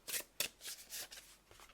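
Oracle cards being shuffled by hand, several quick soft riffling swishes in a short burst, faint and close with no talking.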